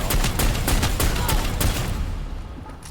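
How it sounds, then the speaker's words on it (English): Video game gunfire from a regular shooting attack, a rapid rhythmic volley of sharp shots close and loud, fading to quiet in the last second. "Let's go ahead and do regular shooting"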